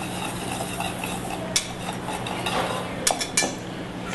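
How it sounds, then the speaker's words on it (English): Dry cornmeal, salt, baking powder and baking soda stirred together in a bowl, a steady soft scraping with a few sharp utensil clinks against the dish near the end. "take all your dry ingredients, some salt, baking powder, and baking soda in your cornmeal. You just kind of stir these together"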